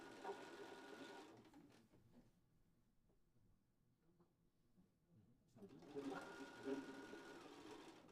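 Sewing machine stitching binding around a quilt edge, a steady mechanical whirr that pauses in the middle and resumes, close, with someone talking over it.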